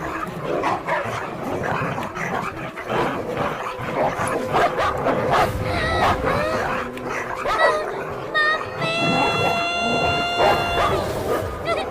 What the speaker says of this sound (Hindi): सिर्फ एक आम के लिए बच्ची पर कुत्ते छोड़ता है क्या?